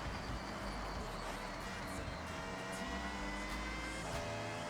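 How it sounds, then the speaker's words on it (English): A car engine in the Forza Horizon 6 racing game drones and howls continuously with a whiny tone, steady and moderately loud throughout. "I guess the car sounds whiny. It's got a certain howl to it."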